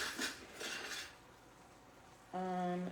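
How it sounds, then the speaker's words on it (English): A teaspoon scrapes minced garlic from a jar, giving a few soft scraping strokes near the start, then a stretch of quiet before a louder tonal clink or hum near the end. "we're gonna use my teaspoons to get out the garlic."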